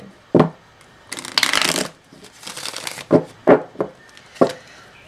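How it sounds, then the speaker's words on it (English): Tarot cards being shuffled close up: crisp riffling bursts and sharp taps as the deck is split, bridged and squared, in irregular bursts with quiet gaps between. "keep shuffling."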